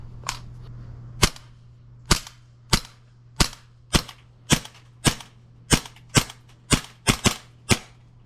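An airsoft pistol fitted with a stock fires about a dozen sharp, snappy shots at uneven intervals, loud and close, including a quick double near the end, over a low steady hum.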